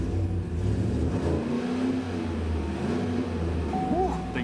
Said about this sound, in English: We're going to let it down, and we want to hear this truck.